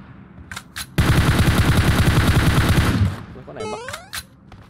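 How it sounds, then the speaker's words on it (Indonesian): Rapid automatic gunfire in the PUBG Mobile battle game, a loud burst of about two seconds of fast repeated shots, preceded and followed by single sharp cracks and a short electronic chirp. "Gak tau gua nembak satu tapi kena dua-duanya"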